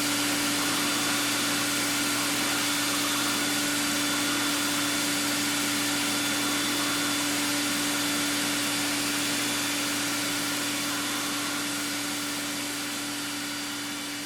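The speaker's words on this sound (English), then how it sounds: "I got a vacuum cleaner nozzle hooked up there" A vacuum cleaner nozzle runs beside a pen-making lathe, giving a steady, moderately loud whine with a constant tonal hum that carries through the whole stretch unchanged and slowly fades slightly at the end.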